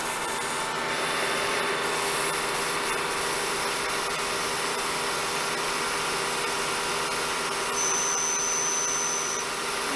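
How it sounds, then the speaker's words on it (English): A Haas MiniMill2 CNC mill runs with its mist coolant system on, giving a steady, dense hiss and machine drone that holds unchanged throughout, with a faint high whine joining near the end. "Use the mist coolant system"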